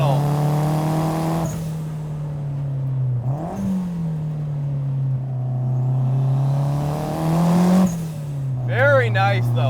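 Toyota AW11 MR2 with a 350 hp 3S-GTE engine pulling hard at full throttle, a steady droning engine note rising and dipping through gears from inside the cabin, with people talking over it.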